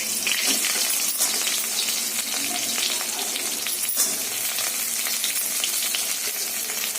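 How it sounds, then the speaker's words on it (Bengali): Eggplant frying in a kadai with dried red chilli and cumin tempering, a constant loud sizzle with light stirring noises and no voices. "প্রথমে হচ্ছিল বেগুনটা দিয়ে একটু ভাজা করে নেব"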